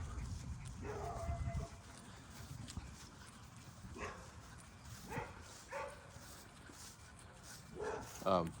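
A beagle barks and yips in a few scattered bursts at moderate distance, with a quieter whimper-like call late, under faint room noise and a person talking.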